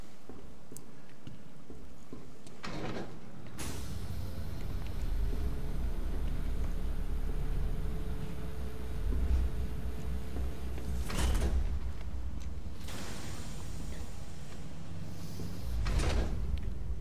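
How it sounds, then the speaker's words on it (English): A heavy door slides shut in Batman Arkham Knight, with sharp scraping thuds that recur a few times over a low, steady ambient hum, fairly quiet overall. "Come on, close the door."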